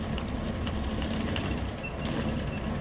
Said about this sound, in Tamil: இந்த டாட் மேலே ஒரு தையல் போட்டுடணும்